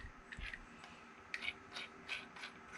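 Threaded sections of a DIY modular anchor pole being screwed together, male into female, giving a few soft ratcheting clicks and scrapes close up, with no talk.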